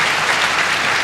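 An audience at an academy felicitation ceremony applauds a teacher, a full, steady round of close clapping filling the brief moment with no voices over it.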